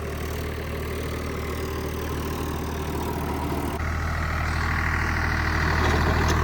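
A Protek 855 tractor engine runs at a steady idle, a loud, continuous low rumble that swells slightly partway through, with no voices.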